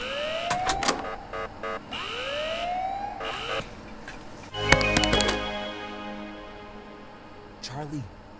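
An alarm siren in the Ice Scream 6 video game wails in rising sweeps alongside electronic game sounds and bursts of noise, with characters' voices talking over parts of it.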